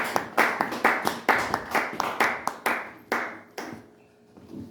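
A congregation at a Sunday church service claps in a brisk, regular rhythm to acclaim the Lord, about a dozen sharp claps ringing in a reverberant hall before fading out.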